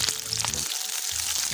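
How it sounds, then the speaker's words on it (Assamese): Chopped onions fry in hot oil in a wok until they turn reddish, giving a steady close sizzle with brief stirring scrapes. Nobody talks. "পিঁয়াজখিনি এনেকৈ ধুনীয়াকৈ ভাজি ল'ম"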